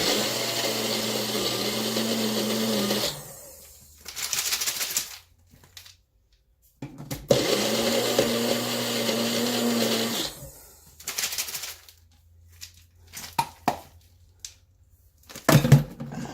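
A blender grinds trail mix ingredients into a sticky paste in two loud, steady whirring runs of about three seconds each, separated by pauses filled with rattling and handling clatter.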